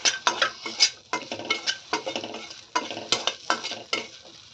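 Capsicum sautéed in a pan and stirred with a utensil, a series of sharp scraping and clinking strokes in an uneven rhythm over a light sizzle, close up with no talking.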